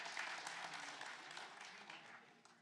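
Audience applause: a dense, steady wash of crowd clapping that gradually thins and softens toward the end.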